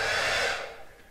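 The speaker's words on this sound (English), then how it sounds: "what I use is hairdryer" A hair dryer, used to change a damaged battery wrap, blows with a steady whooshing roar, then quickly fades as it is switched off.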